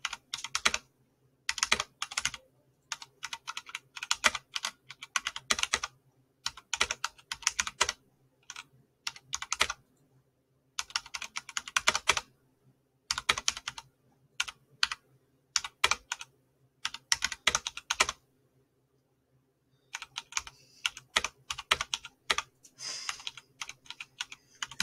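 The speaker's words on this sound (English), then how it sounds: "I actually haven't typed with 2 fingers in like several weeks." Two fingers tap out keystrokes on a computer keyboard during an online typing race, clicking in uneven bursts of rapid taps separated by short silent pauses, close and clear with no talking.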